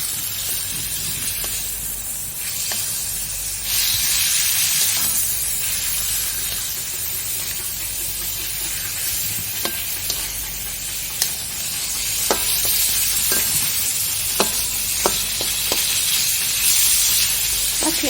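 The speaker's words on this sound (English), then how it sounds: "I'm going to wait for a bit until the shrimps or prawns cook" Shrimps or prawns frying in a pan for a creamy sambal tempoyak fettuccine, a steady loud sizzle and hiss with occasional sharp pops and stirring clicks, no talking.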